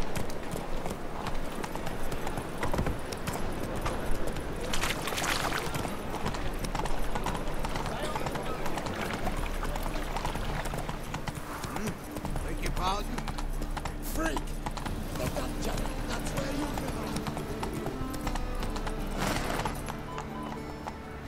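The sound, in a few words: horse hooves clip-clopping while riding, from video game The Witcher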